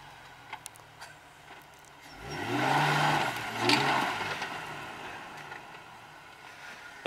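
A car engine revving hard while the car is stuck and trying to climb out of a hole, one swelling roar that rises, holds for a few seconds and slowly fades, heard from nearby with no talking.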